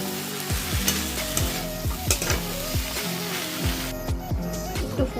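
Ground masoor lentil paste being mixed in a sizzling pan of greens, repeated rhythmic spatula scrapes over constant frying hiss, close and loud, no voices.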